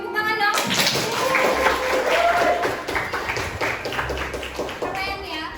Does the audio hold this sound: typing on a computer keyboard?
no